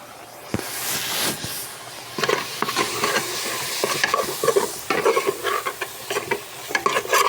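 Chopped tomato fries and crackles in a pan while a utensil stirs it, producing a dense, steady sizzle broken by frequent scraping and clacking strokes close by.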